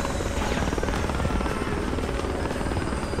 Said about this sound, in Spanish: Vamos a meterle un helicóptero.